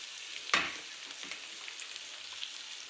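Boiled cauliflower tipped into a pan of browned fried onions over a low flame, with a sharp scrape and sizzle near the start followed by a soft, steady frying hiss.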